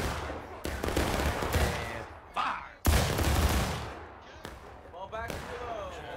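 Musket volleys in War of Rights, the Civil War shooter: sharp broadband blasts of massed rifle fire crack out repeatedly, one big volley standing out, amid shouted commands and chatter.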